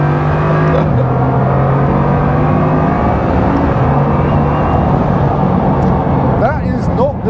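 A 2021 Bugatti Chiron Pur Sport with negative camber accelerates hard in first gear on a public road, its deep engine roar loud and sustained, with stepped rises in pitch and a whistling whine near the end.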